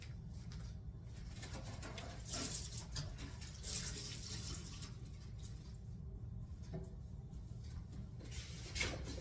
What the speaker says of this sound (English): Then wash my hands.